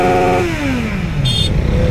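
A modified Kawasaki Z900 at India Bike Week 2023 in Hyderabad revs hard close by, its pitch climbing and then falling away as the engine winds down, with a brief sharp tone and a loud roar throughout.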